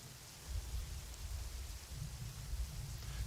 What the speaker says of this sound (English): In the background, you can probably hear rain and thunder.